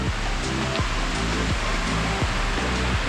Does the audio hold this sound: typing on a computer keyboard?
no